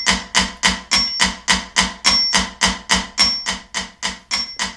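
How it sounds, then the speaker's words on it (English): Steady metronome clicks at 212 beats per minute, set as a tempo guide for a drum groove lesson, sharp, evenly spaced and fairly loud, about seventeen clicks with nothing else heard. "It's called a metronome."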